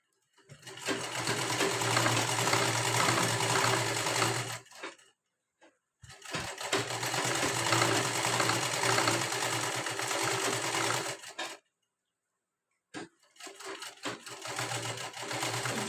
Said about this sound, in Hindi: यहाँ तक हमें लास्ट तक सिलाई लगानी है, यहाँ तक।